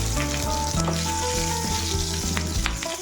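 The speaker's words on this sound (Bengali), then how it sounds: "ভাজা তেলে কালো জিরে দিলাম আর কাঁচা লঙ্কা দিয়ে জিরে নিয়েছি" Nigella seeds and green chilli frying in hot oil with a loud, steady sizzle and crackle close up, and no talking.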